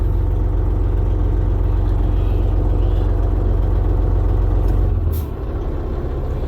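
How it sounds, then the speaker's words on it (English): Dad's truck engine idles loud and close with a steady low throb, then a sharp hiss of air near the end as the rumble shifts; no one speaks. "I'm gonna be a lad here and move Dad's truck. I fired it up."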